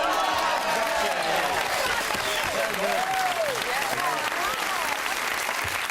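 Studio audience applauding at a televised Christmas music quiz show, a steady dense wash of clapping running the full length with a few whoops and voices mixed in.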